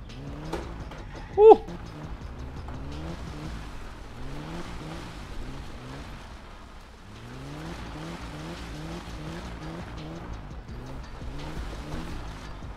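A BMW E30 in the My Summer Car video game revs steadily in low gear while it slides, its engine note rising and falling in repeated waves, with a brief sharp whoop near the start.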